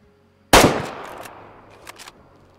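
A single loud .338 Lapua Magnum rifle shot in the hunting game Way of the Hunter cracks sharply, then rolls off in a long decaying echo, with a couple of faint distant knocks near the end.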